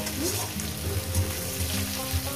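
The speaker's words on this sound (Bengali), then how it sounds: "দিয়ে দেবো পেঁয়াজ কুচি" Chopped onion sizzles in hot oil with dried red chillies and cumin, a close, steady frying crackle with soft knocks and shuffles of the pan underneath; no talking.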